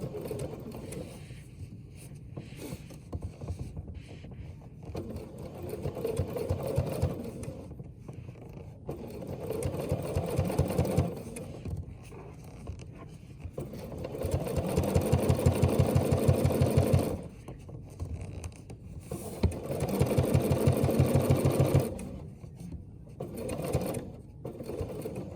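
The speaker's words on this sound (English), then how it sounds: "So when you get to the corner, you stitch as far as you can." A BERNINA sewing machine stitches fabric toward a corner, its close, steady mechanical whirring rising in several sustained runs with quieter pauses between them.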